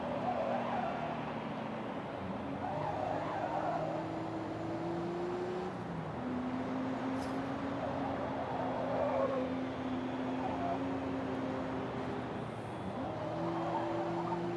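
A retro tuner race car laps a circuit in Forza Motorsport, its engine droning steadily with pitch climbing and dropping through gear changes and a light scrub of tires, fairly quiet and uninterrupted.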